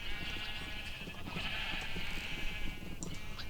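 Sheep bleating in Minecraft, a sustained nasal bleat standing out over a busy background of game sounds.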